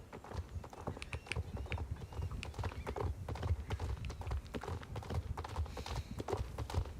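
Horse hooves clip-clopping in the Star Stable Online game, a steady, fast rhythmic trot with a brief whinny, moderately quiet and without talk.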